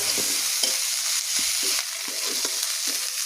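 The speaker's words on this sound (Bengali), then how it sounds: "পেঁয়াজটা ভাজা হয়ে গেছে, আদা রসুন পেস্টটা দিয়ে দিলাম।" Ginger garlic paste fries with browned onions in a pan, giving a close, steady sizzle broken by regular scraping strokes of a spatula stirring the mixture.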